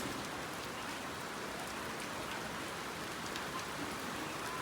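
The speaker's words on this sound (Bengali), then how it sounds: "বৃষ্টির পরিমাণ প্রচুর বাড়ছে" Heavy rain pours steadily at an outdoor cattle market, a dense, continuous roar of drops on surfaces close by with no let-up and no voices.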